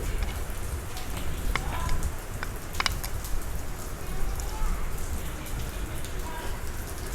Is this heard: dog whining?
no